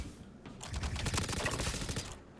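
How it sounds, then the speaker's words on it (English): Rapid sustained gunfire in the Star Citizen video game, a dense burst of automatic shots firing continuously for about two seconds, loud and close, with no talking over it. "Laying down covering fire."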